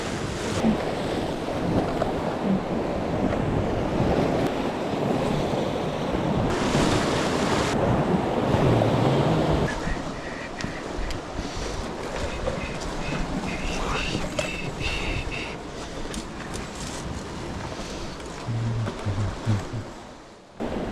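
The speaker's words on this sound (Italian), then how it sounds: "il mare sulla teoria è buono, c'è un moto ondoso regolare in aumento" Stormy sea waves breaking and washing ashore during a storm surge on a fishing outing: a loud, continuous roar of surf with surges and hiss, steady throughout.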